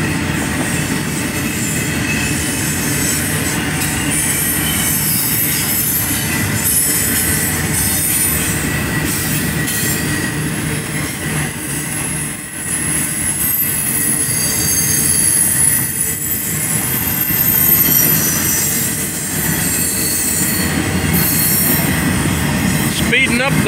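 An eastbound CSX freight train rolls through town, a loud, continuous rumble of rail cars with squealing wheels and a faint clickety-clack, steady and close for the whole stretch.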